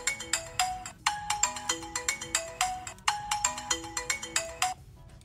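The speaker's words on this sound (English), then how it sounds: "You can also make your phone ring by pressing the button on the side of your Orbit device" A phone ringtone, set off by pressing the side button on an Orbit tracker device, plays a repeating bright electronic melody in two clear phrases. It is loud and close, with no talking.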